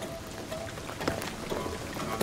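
Steady rainfall patters continuously in Shadow of the Tomb Raider, an even, moderately quiet hiss of drops on surfaces with no voices.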